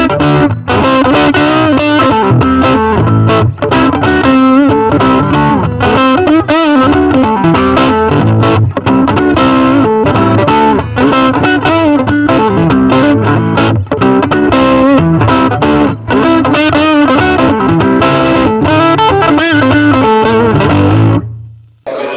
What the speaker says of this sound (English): Finally, we tried Hoffner's treble boost pedal.